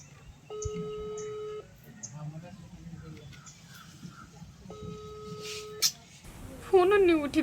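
An outgoing phone call rings with repeated tones in two spaced bursts and goes unanswered, fairly quiet against background murmur, followed by a short electronic tone at the end.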